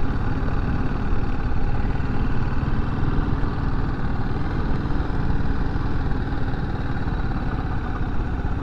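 A BMW G310GS motorcycle engine runs steadily at low speed during a slow riding exercise, a continuous mid-pitched hum that holds an even level from start to finish with no voices.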